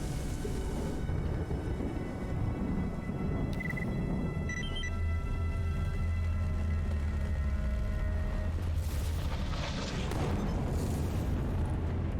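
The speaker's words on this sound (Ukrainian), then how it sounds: "Десь стрілянина біля водойми або за насипом біля болота" Distant gunfire near a pond or marsh embankment in the game S.T.A.L.K.E.R. Anomaly comes as muffled booms and scattered pops over a rumbling outdoor ambience. A few brighter bursts stand out near the middle and toward the end.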